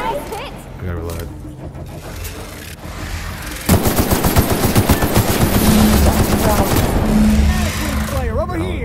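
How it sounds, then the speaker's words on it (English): In The Outer Worlds video game, gunfire crackles in dense, rapid bursts that swell louder and continuous partway through, while a voice talks over the shooting. "We're literally shooting the absolute shit out of her."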